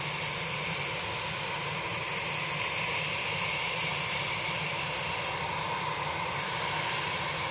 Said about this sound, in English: So we have a Ryanair now departing.